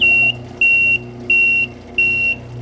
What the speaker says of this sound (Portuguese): Ele tem alarme para quando a solução está acabando.